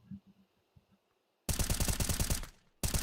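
Rapid gunfire in a competitive tactical shooter match, a loud dense burst of shots starting abruptly after quiet, briefly cutting out and resuming.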